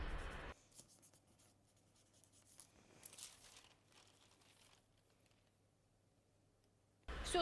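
A pen or marker scratches softly across cut fabric pieces for a shirt dress. The quiet writing strokes are close and faint over low background hum, with brief louder rustles at the start and end.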